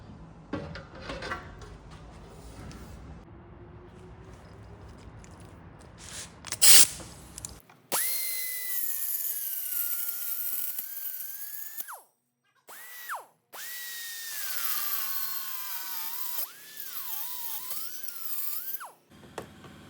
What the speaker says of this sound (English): So I will cut this piece out now